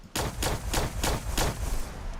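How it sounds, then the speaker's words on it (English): Fireworks go off in Fallout 4 as a rapid run of about five or six loud, booming bursts in quick succession, close and heavy, with no talk over them. "We'll just, here's some fireworks."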